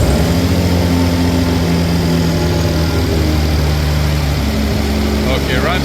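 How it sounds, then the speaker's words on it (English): A B58 engine swapped into a BMW E24 runs with a misfire, a loud, close, steady idle drone with uneven stumbling pulses, and a voice briefly speaks near the end. "Okay, runs better, but it's still misfiring."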